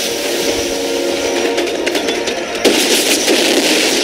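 Grenades bursting in the Empire Total War strategy game, a continuous crackle of small blasts and battle noise that grows louder past the midpoint.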